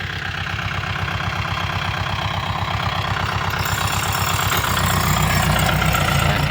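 A tractor engine idles in a rice field in Sisaket, Thailand, a steady close chugging that grows slightly louder and rougher near the end.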